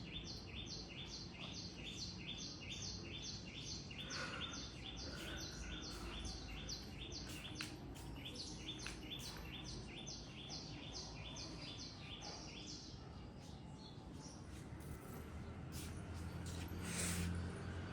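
Small birds chirp and tweet repeatedly in a steady, busy chorus at moderate distance outdoors, with rustling and low background noise underneath throughout.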